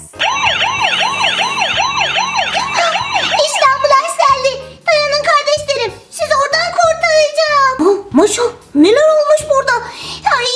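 A wailing siren rises and falls in a steady rhythm for a few seconds, then gives way to animated, high-pitched voices chattering over a busy backdrop.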